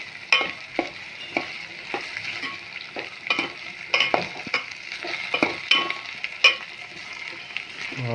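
Tindora, eggplant and potato cooking in a pan over low heat, a constant sizzle under a regular series of scraping stirs and light metallic taps from the spoon.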